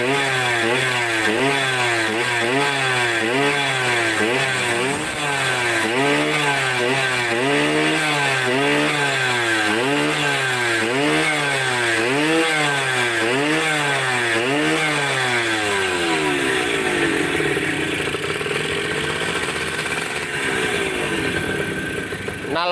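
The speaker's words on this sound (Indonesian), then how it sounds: "Knalpotnya kayak ngempet ya. Knalpotnya mode panjang sih ini teman-teman." A Yamaha DT 100 two-stroke motorcycle engine with a long exhaust revs close and loud, rising and falling in a steady rhythmic cycle of throttle blips, then settles toward a rougher idle near the end.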